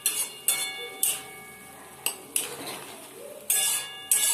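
Vegetables with spices and sauce being stirred in a pan for veg Maggi spring rolls, heard as repeated sharp metallic clinks of a spoon against the pan, about eight close knocks spaced irregularly with soft scraping between them.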